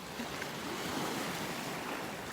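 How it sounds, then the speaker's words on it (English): Small waves rippling onto a beach shore on a calm morning in North Naples, Florida, a steady wash of surf under light wind noise with no distinct breaking. "Just some little tiny waves rippling onto the shore here"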